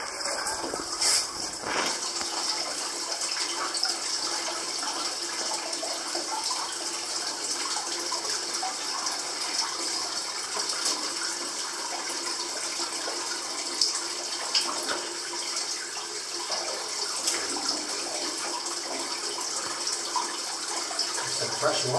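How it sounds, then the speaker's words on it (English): Spring water pouring out of a rock wall like a small waterfall, a steady close splashing rush throughout with occasional brief voices over it. "look at this, like a waterfall here"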